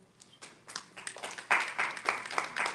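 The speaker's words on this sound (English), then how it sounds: "Yeah, definitely clap for that one" An audience at a safety and policy summit claps briefly, scattered at first, then building into fuller applause that carries on for a few seconds.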